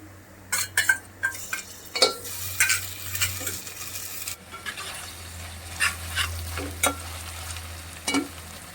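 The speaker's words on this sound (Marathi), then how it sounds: "तर आता त्याच्यामध्ये मी टाकते 1 चम्मच जिंजर गार्लिक पेस्ट" Onion and ginger-garlic paste fry in hot oil in a home kitchen, a steady sizzle broken by repeated sharp scrapes and clinks of a spoon stirring against the pan, close and fairly loud, with no talking.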